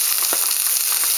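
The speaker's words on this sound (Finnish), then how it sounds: "nyt tuolla meillä myös toi porkkanavesi kiehuu." Carrot water boiling in a pot, a loud, close, constant bubbling and seething with dense crackly texture and no speech.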